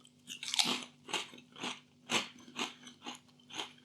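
Someone crunches M&S mature cheddar and spring onion hand-cooked crisps made by Kettle, with about eight crisp, close bites and chews in an even rhythm and no talking.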